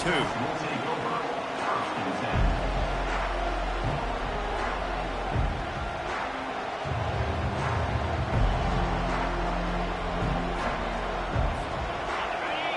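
Stadium crowd noise in College Football 25 at a Penn State home game, a steady dense roar with rhythmic low thumps, loud and continuous throughout with commentary voices over it.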